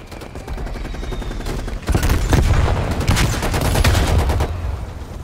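Dense gunfire in a 12-versus-12 hardcore Call of Duty: Black Ops Cold War match on Nuketown, with rapid overlapping shots and bursts swelling to a sustained loud barrage after a quieter opening.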